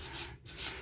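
Short rasping strokes of a wire brush scrubbing the rusty, penetrant-soaked threads of a rear pinch bolt on a Mondeo Mk3, two quick close back-and-forth passes with a brief pause between.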